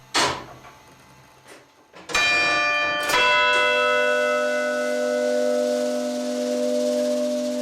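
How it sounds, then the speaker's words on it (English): Church tower clock bells chime: a couple of soft early strikes, then two loud rich bell tones at about two and three seconds, ringing on with long, slowly fading overtones. "The clock chimes every 15 minutes via a linkage which runs through the roof to the bells above."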